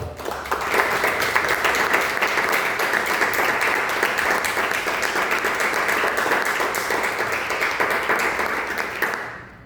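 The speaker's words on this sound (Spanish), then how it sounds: "Den un aplauso al Señor." Sustained applause from a church congregation during a sermon, a steady wash of many hands clapping for nearly ten seconds at even loudness before trailing off at the end.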